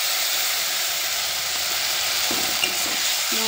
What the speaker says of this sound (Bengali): মশলা দিয়ে ভালো করে কষিয়ে নেব মশলাটা